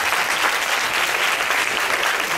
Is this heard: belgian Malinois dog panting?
no